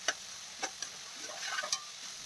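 A spoon stirring flat beans with the tempering in a pan for a tomato curry, giving a few soft scrapes and taps over a faint steady sizzle, close and quiet.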